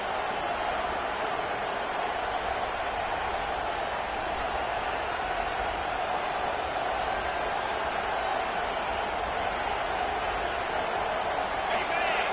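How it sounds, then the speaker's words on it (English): A home crowd at a Florida vs FSU college football game roars in a steady, loud wall of noise that holds for the whole stretch, with no single voice standing out. "Here comes this home crowd as the defense tries to get off the field on third down."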